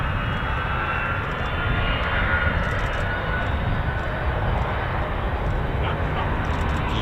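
F-15 and F-35 fighter jets with Pratt & Whitney engines at RAF Lakenheath, a loud, unbroken roar of jet thrust that holds steady throughout.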